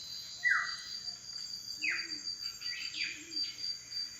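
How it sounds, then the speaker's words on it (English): Cuckoo dove in Indonesia giving several upslurred calls at moderate distance, spaced irregularly over steady insect or cricket hum, reminiscent of a great horned owl's hooting. "It's one of the cuckoo doves."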